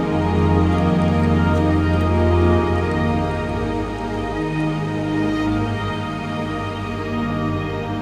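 Rain falls steadily during a rainstorm on the Muir Trail, a dense close wash of drops and patter with no voices, holding at an even loud level throughout.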